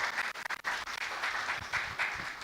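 Audience applause at a report launch event in Ghana, a soft wash of clapping heard at a distance, fairly quiet and continuous with a few sharper claps near the start.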